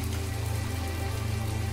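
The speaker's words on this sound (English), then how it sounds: "Oh my goodness, it's raining." Rain falls steadily in the farming and crafting video game My Time At Portia, a dense, even patter with an underlying low hum, continuous and fairly loud with no talk.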